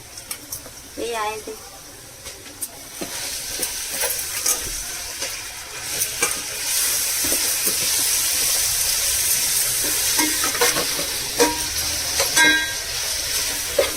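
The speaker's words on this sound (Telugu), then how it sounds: "మామిడికాయ తురుము ఇప్పుడు వేస్తున్నాము" Grated raw mango tipped into a hot pan for pulihora and stirred, a steady frying sizzle with scraping stir sounds running throughout, close and moderately loud, with a few brief scattered clicks.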